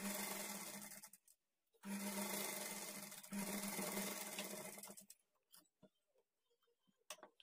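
A sewing machine stitches a blouse sleeve in two steady whirring runs separated by a short pause, then stops, leaving scattered clicks and handling noises of the fabric.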